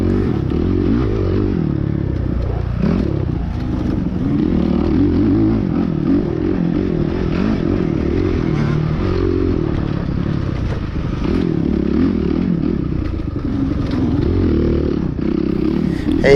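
Motocross dirt bike racing on dusty woods, field and motocross terrain, with a bike engine droning and revving steadily throughout. The engine is loud and close, with some clatter and scraping from the ride.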